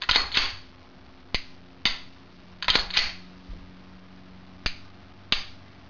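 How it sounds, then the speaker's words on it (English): Glock pistol being handled: a series of sharp metallic clicks and snaps from the slide racking and trigger resetting, about seven distinct crisp hits spread unevenly over several seconds. "pull the trigger. Rack the slide, reset the trigger just by letting your finger forward a little bit."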